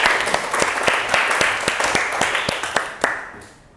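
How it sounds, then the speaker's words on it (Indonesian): Classroom applause at a teaching session, a small group clapping with distinct individual claps that trail off and fade out near the end. "Tepuk tangan untuk kita semua"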